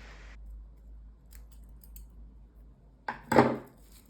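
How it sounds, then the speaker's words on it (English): Scissors snip through raffia yarn during hat crocheting: a near, crisp single cut after a quiet stretch with faint background clicks. "To do that, cut the yarn, leaving a 10 cm tail."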